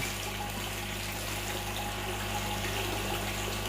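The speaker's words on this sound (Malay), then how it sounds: "Masukkan air tangki ni dalam ni Masukkan air tangki ni ke dalam" Tank water poured into a plastic bag holding red tilapia fry, a continuous steady splashing and rushing flow at close range, moderately loud with no speech.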